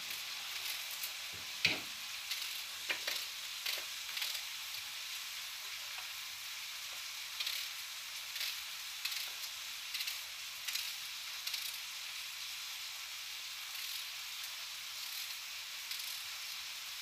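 Camel meat frying in a pan for a Moroccan vegetable tagine, giving a faint, steady sizzle with occasional soft stirring clatters, close and alone without talk.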